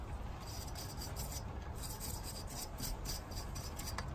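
Small brush spreading Permatex anti-seize onto the wheel studs of a Subaru Forester, a soft continuous rasping scrub in repeated short strokes, close and quiet.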